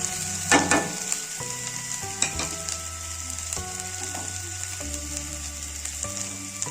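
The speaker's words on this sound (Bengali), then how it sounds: "যে মশলাগুলো একসঙ্গে নিয়েছিলাম, এই মশলাগুলো একসঙ্গে দিয়ে দেবো।" Ground spices and chili paste fry in hot oil for an ash gourd and egg bhujia, a strong close sizzle broken by several spatula scrapes and stirring knocks, steady throughout with no talking.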